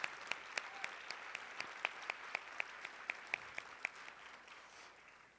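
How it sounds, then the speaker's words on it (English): Audience applause at an awards ceremony, a steady wash of many hands clapping with sharp individual claps standing out, moderately distant and continuous throughout, with no talking over it. "Give them another round of applause."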